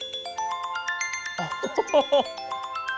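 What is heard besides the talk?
iOS 7 Waves ringtone playing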